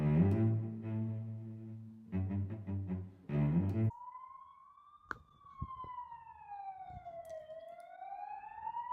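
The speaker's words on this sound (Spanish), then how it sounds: "No hay nadie que le quite el paso a esa ambulancia" An ambulance siren on an empty street, a loud wailing tone that sweeps slowly up and down, heard alone after an earlier burst of unrelated harmonic sound.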